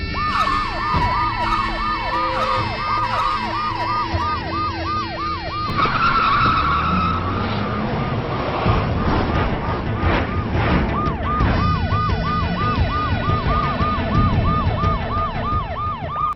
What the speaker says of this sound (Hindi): अबे ये तो कारें ही कारें आ रही हैं।